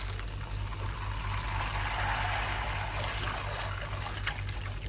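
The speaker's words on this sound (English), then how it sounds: "I love the sounds that come out from browning butter" Butter browning in a pan crackles and sizzles steadily, with soft bubbling over a constant low hum, up close and without talking.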